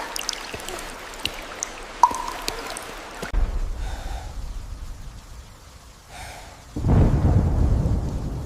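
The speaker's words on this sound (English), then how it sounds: "Rain poured and thunder shook the earth." Thunder rumbles through a jungle storm with pouring rain, a low rolling crack building in the middle and a louder heavy wash of rain and thunder near the end, with no talk.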